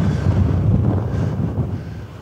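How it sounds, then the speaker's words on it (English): Strong wind buffeting the microphone on a hilltop at Pendle, a steady loud low rumble with gusty surges throughout and no talking. "It's very windy up here."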